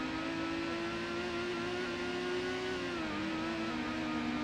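A car's engine in the Gran Turismo racing game drones at a steady, high-revving pitch that dips slightly near the end, continuous and alone with no talking.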